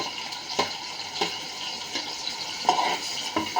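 Onions fry with ginger garlic paste for chicken biryani, a soft, fairly quiet sizzle with a few spaced stirring scrapes and a watery bubbling texture, no talking.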